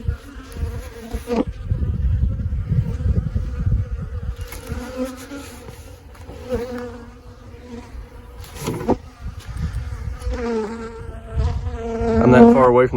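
Swarm of honeybees buzzing loudly and continuously around a beekeeper beside storm-blown hives, the droning hum rising and falling close by with no talking.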